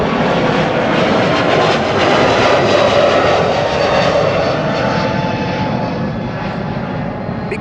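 An airliner's jet engines roar on departure from runway 24 at Amsterdam Schiphol, a loud sustained rumble and whine that slowly fades as the aircraft pulls away.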